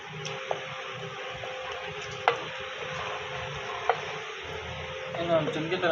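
Potatoes and chicken sizzle and fry in a pan while a utensil stirs, with a steady hiss, occasional sharp clicks of the spoon against metal, and more scraping toward the end.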